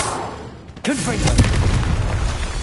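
Confringo fire spell in the game Hogwarts Legacy, a sudden deep booming explosion after a brief whoosh, loud and followed by a rumbling tail, with a voice casting the spell.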